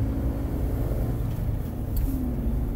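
A car with a manual transmission driving, heard from inside as a steady, loud low rumble of engine and road noise without any talking.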